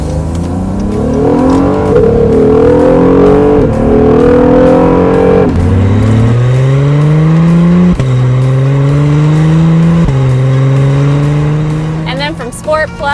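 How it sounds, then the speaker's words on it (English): A loud 2019 Acura NSX engine in Sport mode revs hard through rising gear pulls, each climb ending in a quick shift, close up and continuous for several seconds. "You can really hear that engine sound."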